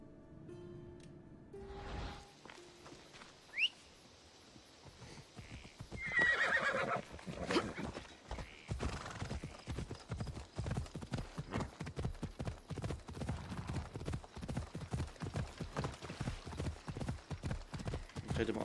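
Horse hooves clip-clop at a steady galloping rhythm in Assassin's Creed Odyssey, with a horse neighing early on and constant hoofbeats running near and loud throughout.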